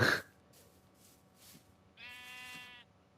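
A single drawn-out Minecraft sheep bleat with a slightly synthetic, game-like tone, preceded by a few faint soft bleats and a brief burst at the start.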